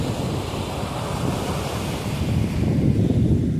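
Sea waves and wind at Kattankudy beach: a continuous, rumbling surf wash with buffeting wind noise on the microphone, swelling a little toward the end, and no one speaking.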